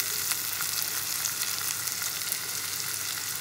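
Snake gourd curry sautés in a hot pan, a steady, close, even sizzle and crackle that holds at one level throughout with no voices over it.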